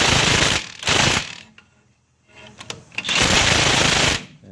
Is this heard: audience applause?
no